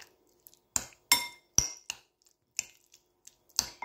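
A utensil clinks and scrapes against a bowl while diced turkey is mixed with paprika and yogurt, giving sharp separate knocks at an uneven rhythm with near silence between them, close and fairly clear.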